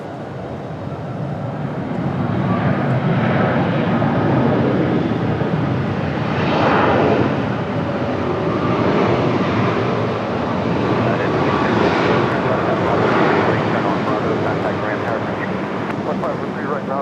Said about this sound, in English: Nice smooth touchdown for the Max 8.